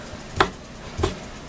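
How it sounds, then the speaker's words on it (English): Two separate knife chops on a cutting board in a home kitchen while sausage is being prepared, each a crisp, close thud spaced about half a second apart against a quiet background. "And we're just chopping."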